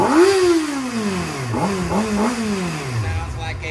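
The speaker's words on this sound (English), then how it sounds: "Rev her up, Jay." Kawasaki ZX6R 636 sport bike engine with a Toce exhaust revving up close: a rising-then-falling rev, then a few quick blips before it settles back, loud and alone.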